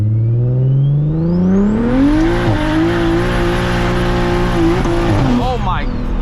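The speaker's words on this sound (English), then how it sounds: "we're gonna take off from a stop. Break the tires loose." A single-turbo BMW 335is launches hard from a stop, its engine revving up in a rising whine that climbs and then holds a loud, steady high-pitched drone with turbo whir. Tire noise is heard, and the engine falls off briefly near the end.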